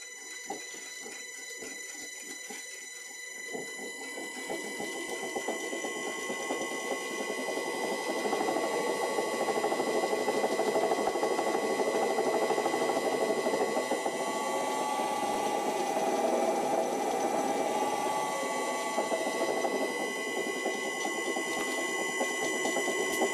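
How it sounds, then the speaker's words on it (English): A wood lathe's faulty motor runs steadily for a long stretch with a continuous mechanical rattle and whine, moderately loud and close. "I thought it was the lathe that was causing that rattling sound, but it turns out it is the motor"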